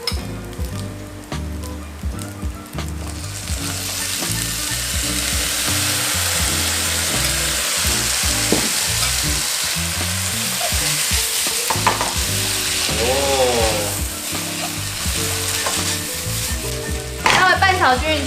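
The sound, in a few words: stir-frying glass noodles with mushrooms in a pan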